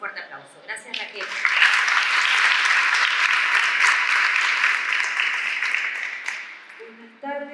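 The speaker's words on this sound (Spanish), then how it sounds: "le vamos a dar la bienvenida con un fuerte aplauso" At a public talk on the pandemic and young people, an audience breaks into strong, sustained applause to welcome a speaker, rising quickly after a moment of talk and holding loud before tapering off.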